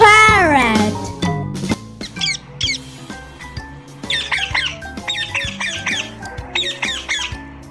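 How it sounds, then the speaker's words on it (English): A parrot lets out a rapid series of harsh, chattering squawks, loud and close, over a light musical backing. "P for parrot."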